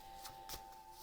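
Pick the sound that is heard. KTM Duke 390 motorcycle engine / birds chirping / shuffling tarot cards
shuffling tarot cards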